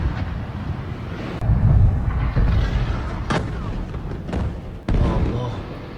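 Heavy booms from Israeli airstrikes on Beirut strike several times a second or more apart, sharp and loud over a constant rumbling background, while people talk and call out nearby.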